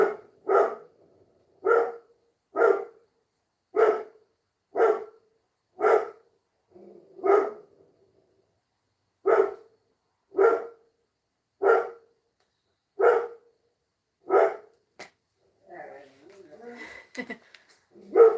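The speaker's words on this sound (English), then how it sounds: "Sorry if you can hear my dog barking." A dog barks steadily, single sharp barks spaced about a second apart, moderately close, with a short pause midway and some faint background noise near the end.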